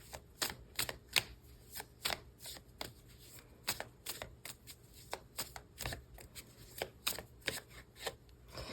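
Tarot cards being shuffled over and over, with quick crisp riffles and snaps in a steady, busy rhythm, close up and with no one talking.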